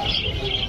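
Pet birds, budgies and Hagoromo, chirp in a bird shop in a brief, dense burst of high twittering over a noisy room background.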